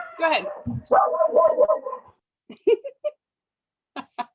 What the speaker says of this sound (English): Sounds like my dog.